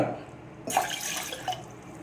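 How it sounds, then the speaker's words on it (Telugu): Two cups of water pour into a pot for a jaggery dough recipe, a short splashing rush starting partway through, tapering with a faint drip near the end. "2 కప్పుల నీళ్లను పోసుకుంటూ ఉన్నాను నేను ఇక్కడ"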